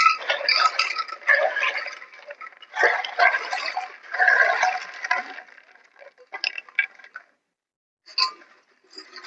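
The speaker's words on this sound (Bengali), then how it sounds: "এই গামলার মধ্যে এবার আমি এই চিপস গুলো সব ঢেলে দেবো" Crispy fried raw banana chips tumble into a large bowl in a few crackling, rattling bursts, dense at first and then thinning to scattered light clicks and taps.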